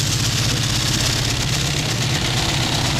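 A veteran Argyle car from the London to Brighton Run, with a steady, loud engine idle. Its low throb and rhythmic chugging run without a break throughout.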